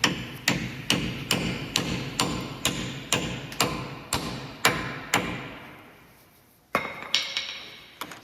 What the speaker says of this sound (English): we can just hammer a socket on